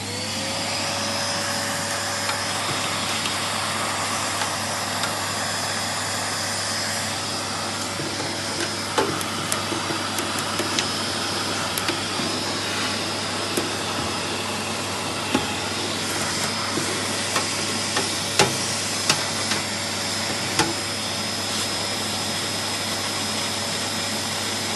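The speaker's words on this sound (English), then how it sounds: "Okay, so I'm using the hoover at the same time." A vacuum cleaner (hoover) runs steadily while dust is cleaned out of a computer and its fan, a loud continuous whine and rush with occasional clicks and knocks from the nozzle against the case.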